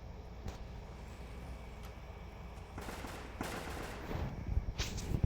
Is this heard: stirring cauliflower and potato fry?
no